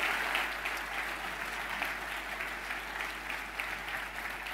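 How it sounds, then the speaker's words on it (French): A conference audience applauds as two experts are invited on stage at a health debate club talk on the brain and ageing, a dense, even clapping from the crowd that stays steady throughout. "On va faire monter maintenant nos 2 experts que je vous demande d'applaudir"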